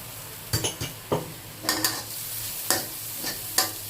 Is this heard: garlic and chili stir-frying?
yes